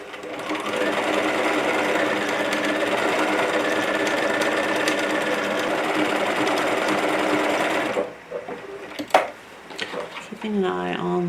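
A sewing machine runs steadily for about eight seconds while stitching a tote bag with a long stitch length, then stops, leaving brief clicks, handling sounds and a short voice.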